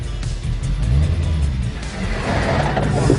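A rally car engine runs loud and steady, with a low throbbing drone that swells slightly in the middle and builds toward the end, no voices over it.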